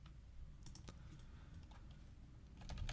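Typing a username and password on a computer keyboard, with soft scattered key clicks in irregular bursts over a steady low room hum.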